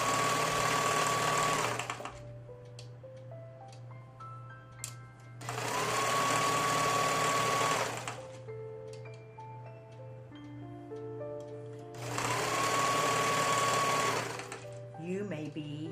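Sewing machine stitching a single layer of fabric for a drain bag pillow, running in three steady bursts of about two seconds each with quiet pauses between them, close and clear.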